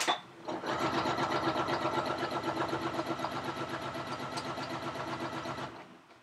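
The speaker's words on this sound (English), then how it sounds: "So if I'm moving the quilt sandwich slowly, but the machine is going fast" A sewing machine runs fast during free motion quilting as the quilt sandwich moves slowly, giving a continuous rapid, even mechanical chatter that starts abruptly, holds steady for about five seconds, then stops. It is close and prominent, with no speech.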